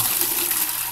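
Homemade lilac fabric softener is poured into a mineral water bottle, a steady close rush of liquid lasting under a second with no talk.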